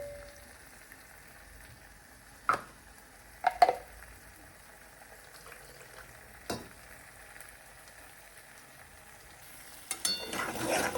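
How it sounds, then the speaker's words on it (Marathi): A spoon stirs food in a cooking pot in a home kitchen, giving a few separate scraping strokes spaced seconds apart against quiet, faint sizzling, then a louder rush at the end. "चमचा ओढला सगळं आणि हे असं मस्त खालीवर हलवून घ्यायचं"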